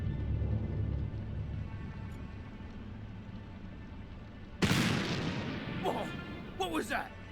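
A sharp bang, a gunshot or firework in The Black Mirror 3 video game, cuts through quiet ambient hum, followed by a couple of fainter crackling pops.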